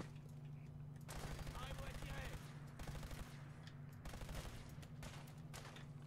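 Rapid bursts of gunfire from the réducteur de munitions in Fallout 4, several clustered volleys of fast repeated shots separated by short pauses, set over a low steady hum.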